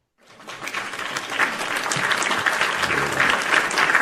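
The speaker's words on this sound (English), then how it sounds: "Let's give them a round of applause right now." A live audience bursts into applause for traders at a live trading event, clapping rising quickly and staying loud and dense throughout.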